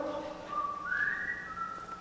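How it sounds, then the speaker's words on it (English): A character called the Whistler speaks only in whistles, heard here as a clear, wavering whistled phrase that slides upward midway and holds a steady tone, with no talk over it. "the Whistler only talks with whistles"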